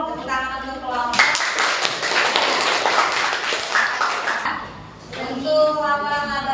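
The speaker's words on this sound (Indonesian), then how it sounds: "Tepuk tangan untuk kelompok." Classroom audience claps for a student group after an accounting presentation, a few seconds of brisk clapping framed by a teacher speaking before and after.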